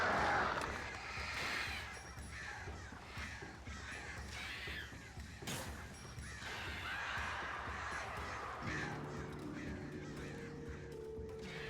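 Crows caw in the dark atmosphere of the video game Alan Wake, harsh calls scattered across a noisy, rumbling backdrop, with a low hum entering near the end.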